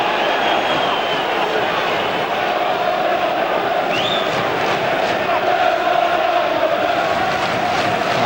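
A Bolton football crowd sings and roars in a stadium during a 1996 match against Manchester United, a dense, continuous wall of massed voices with a commentator talking over it.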